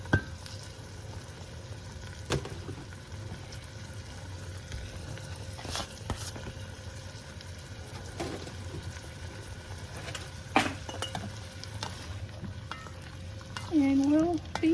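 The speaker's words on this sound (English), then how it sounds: "We're going to fry these until they're translucent in the butter." Food frying in butter until translucent makes a quiet, steady sizzle, with scattered clicks and scrapes of stirring and a brief louder clatter near the end.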